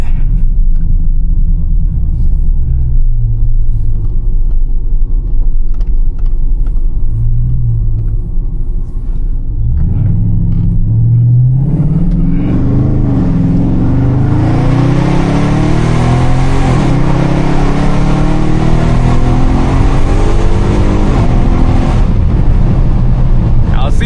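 A tuned 392 Scat Pack car starts with a low, rumbling idle, then accelerates hard. The engine climbs in pitch toward redline and shifts, and each gear change brings a renewed rising roar, heard loud and close from inside the cabin.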